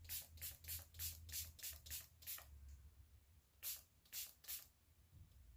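A hand spray bottle mists bleach onto a shirt in a quick run of about eight soft hissing squirts, a pause, then three more, close and quiet.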